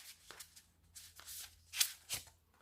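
Tarot deck being cut and shuffled by hand, a few quiet, close papery flicks and slides in short separate bursts.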